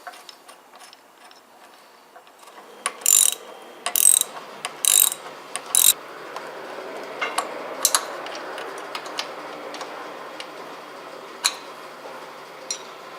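A ratchet tightens a part during the brake restoration of a Rokon motorcycle, giving a series of close metallic clicks and pawl ticks in short bursts, with some louder clacks between them and handling noise throughout.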